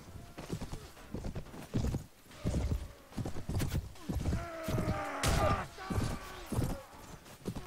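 Hoofbeats of a large black undead horse in the Mount & Blade game mod Prophesy of Pendor, a steady clip-clop rhythm close and loud, mixed with battle hits and a sharp whinny partway through.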